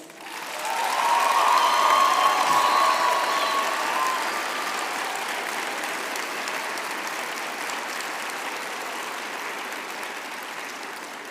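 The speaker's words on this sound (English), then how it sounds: "I would now like to ask our graduates to applaud their families, friends, and spouses for their support over the years" Graduation ceremony audience applauding families, friends and spouses, a broad sustained wash of clapping from a large hall that rises quickly and holds steady, slowly tapering, with a faint whistle or cheer early on.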